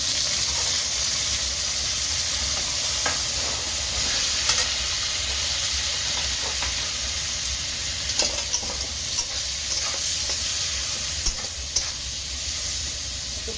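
Onions and green chilies fry in oil in a pan along with ginger, garlic and whole spices, giving a steady, loud sizzle with faint stirring clicks throughout, and nobody speaks.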